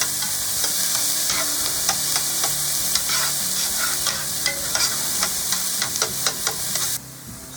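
A whole chopped onion fries in about three tablespoons of olive oil over medium-high heat, crackling steadily up close while a utensil repeatedly scrapes and clatters against the pan, the sizzle shifting abruptly near the end.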